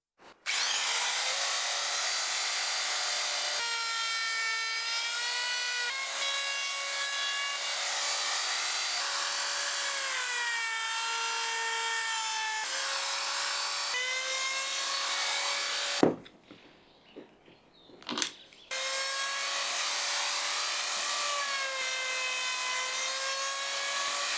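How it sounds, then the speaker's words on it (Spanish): A router with a flush trim bit whines steadily at close range, its pitch shifting as it cuts inside holes in a garage workshop organizer, with a short break of quieter sanding and scraping partway through. "Ahora lo voy a terminar pasando una fresa de corte al ras por el interior de cada agujero"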